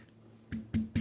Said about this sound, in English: And now what I'm doing is slicing it into about 1/2 inch slices.